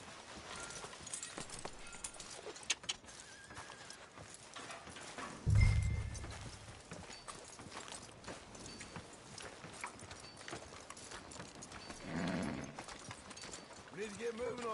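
Horse hooves clip-clop steadily through a video game scene set on a town street, with a louder thud or two midway, under a background of game ambience and talk.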